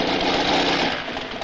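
A cartoon tank's engine from the 1970 anime Norakuro runs in a brief, loud, steady buzzing drone.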